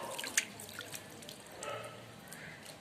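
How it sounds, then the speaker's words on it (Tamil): Squid rinsed by hand in water, with light drips, splashes and trickling water in a quiet, close setting. "தண்ணியில் இப்படி கழுவிட்டு"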